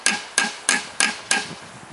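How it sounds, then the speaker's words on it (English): Five sharp hammer blows strike metal at an even pace on a Toyota VVT-i engine being taken apart at the crankshaft bearings, each hit ringing briefly, close and loud, with no talk. "then I hammer a little bit also in that area"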